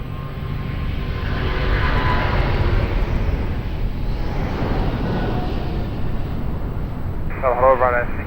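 A Boeing 777 jet at Lisbon Airport gives off a steady, loud roar of engine noise that swells slightly and holds throughout, with radio chatter from air traffic control heard briefly near the end.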